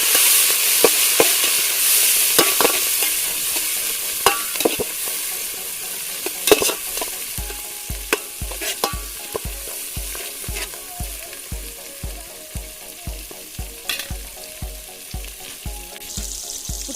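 Fenugreek spice mix being stirred in a hot pan for a pigeon pea biryani, with steady oily sizzling and a regular run of scraping strokes that become a quick repeating rhythm in the second half, close and moderately loud, no talking.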